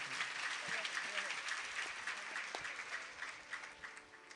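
Applause from the audience at a Hindu religious discourse on the Bhagwat Katha, a dense wash of clapping from a large crowd heard at a distance, steady throughout with faint voices mixed in.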